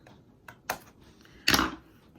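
Fine scissors trim a paper border offcut during scrapbook cropping: a couple of quick, crisp snips, then one longer, louder cut, all close and quiet with no talking.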